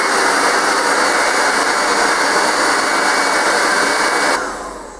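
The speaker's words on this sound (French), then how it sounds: "je vais l'utiliser uniquement pour sécher mes cheveux" A Pro 2200 hair dryer blows steadily and loudly while drying hair, a dense continuous whoosh that holds for about four seconds before it is switched down and fades.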